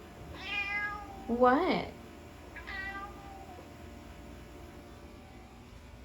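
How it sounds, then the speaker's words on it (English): A house cat in a kitchen meows several times at close range, a drawn-out call followed by a sharper, louder one and a shorter final meow, with a brief spoken word from a person between them. "And that is one of the cats."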